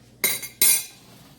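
Metal utensils clink against a dish while lemon icebox pie is served, two sharp bright clinks about half a second apart, close and fairly quiet, with no talk.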